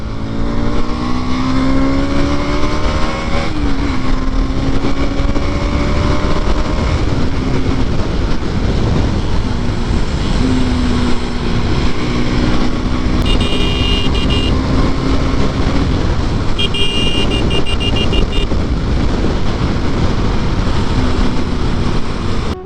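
A vehicle engine revs hard and continuously, a loud close droning roar with pitch sweeps rising and falling as it accelerates, filling the whole stretch with no voices.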